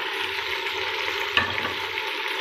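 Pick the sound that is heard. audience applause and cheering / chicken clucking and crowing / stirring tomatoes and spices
stirring tomatoes and spices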